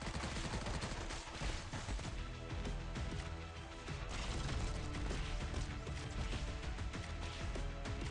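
Rapid volleys of gunfire and mechanical clatter from the Arknights video game, loud and continuous over a dense layer of game music and effects, with no voices.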